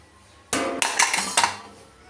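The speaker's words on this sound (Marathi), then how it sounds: "चला आपण कुकर खोलून बघू" A steel pressure cooker lid clanks and scrapes open after three whistles, in a home kitchen while cooking a bombil and brinjal curry: a sharp metallic clatter followed by a few shorter rattles, close and fairly loud, with no talking.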